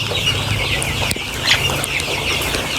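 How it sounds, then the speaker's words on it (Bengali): Sonali colour-bird chickens on a poultry farm, some sick with Gumboro disease, cluck and chatter continuously at close range with no talking. "এই যে অসুস্থ অসুস্থ মুরগিটা দেখতে থাকেন"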